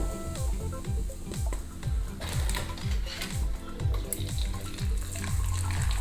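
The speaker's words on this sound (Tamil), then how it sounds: "எல்லா அப்பளமுமே நல்லா பெருசாக பொரியறது பாருங்கள்" Appalam (papad) deep-frying in hot oil, including tomato appalam, gives a dense, continuous sizzle and crackle with repeated bubbling bursts as each one puffs up.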